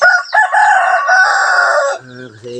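Chickens crow loudly and close by in a mountain farmyard, one long rooster crow followed by lower clucks.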